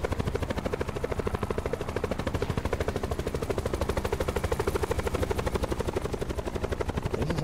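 A helicopter in the battle royale game Call of Duty Blackout thrums steadily with rapid, even rotor chops, loud and close, continuing without pause and with no talking.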